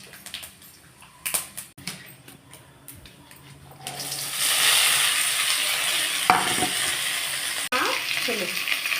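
Mustard seeds, chana dal and urad dal hit hot oil for a kolukattai preparation: a few scattered clicks and taps give way to a loud, steady sizzle, broken by a sharp clack and a brief spatter.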